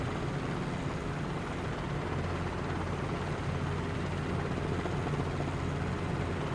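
Steady, dense engine drone of a FedEx aircraft landing on runway 19 center in Microsoft Flight Simulator 2020, a loud continuous roar with low rumble and no breaks, heard alone without talk.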